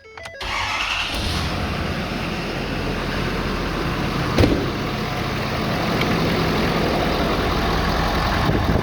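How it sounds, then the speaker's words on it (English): A 2011 Ford F250 pickup with a 6.7L diesel engine cranks and fires up close by, then settles into a loud, steady low-pitched idle that rumbles on without any talk. "and when I start the truck up"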